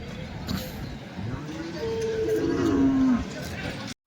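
Bulls at a Chalisgaon cattle bazaar give a drawn-out, rising-then-falling moo in the middle of the clip, set against a busy outdoor crowd murmur and voices talking close by.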